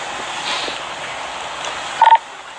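A telephone dials a number during a police response to a shooting in Elgin, Illinois: a quick cluster of three short keypad tones near the end, over a steady radio-like hiss.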